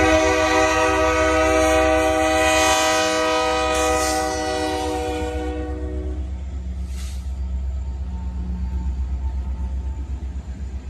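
Herzog work train led by a C30-8 standard-cab locomotive passing, a loud sustained horn blast over heavy engine rumble, the horn cutting off while the low rumble and rolling wheels continue.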